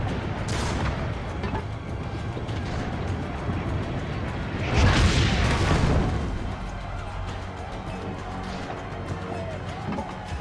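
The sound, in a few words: cannon fire, from a video game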